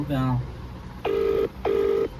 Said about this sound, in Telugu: ఆయన ఫోన్ చేద్దాం బన్నీ అని ఒకసారి.